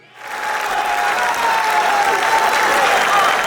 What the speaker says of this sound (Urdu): بھرپور تالیوں میں تشریف لاتے ہیں